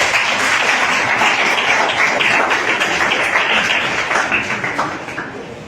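An audience at an award ceremony applauds with dense, sustained clapping that slowly tapers off toward the end.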